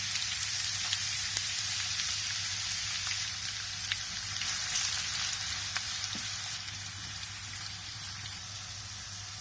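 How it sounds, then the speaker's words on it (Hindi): A steady, close sizzle of onions frying in hot oil over low heat until light golden, as the base of a fish curry, with faint crackles and pops scattered throughout and no talking. "अब हम इसमें प्याज डालकर हल्की आंच पे लाइट गोल्डन कर लेंगे"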